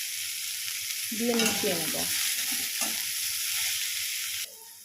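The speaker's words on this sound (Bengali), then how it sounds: "পেঁয়াজটাকে আমি সুন্দর করে লাল লাল করে ভেজে নেব।" Onions frying in oil in a pan hiss with a steady, close sizzle that swells midway as a voice talks briefly over it, then cuts off near the end.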